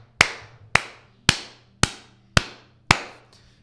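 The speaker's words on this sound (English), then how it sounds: "I clap for you, brother." Hand clapping, heard as six crisp, evenly spaced single claps about half a second apart, close and loud with brief decay, no voices.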